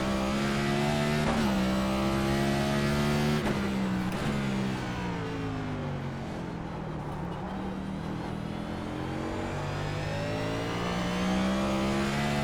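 A NASCAR Cup car engine in the iRacing simulator runs at Long Beach, droning loud and continuous with rising and falling revs as it accelerates and eases off, the harmonic whine shifting pitch through gear changes.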